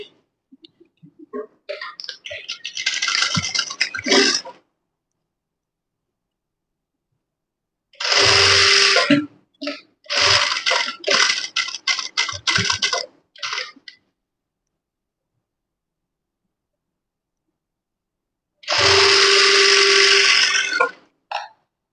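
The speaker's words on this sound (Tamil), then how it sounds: "இந்த மார்க்கிங் மேலேயே நம்ம இப்ப ஸ்டிச் பண்ண போறோம்" A sewing machine stitching blouse fabric runs in several short bursts of rapid mechanical whirring and clatter, close and loud, separated by silent pauses.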